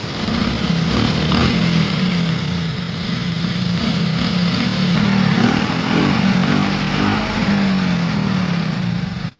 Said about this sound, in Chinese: 就是这种熟悉的发动机声音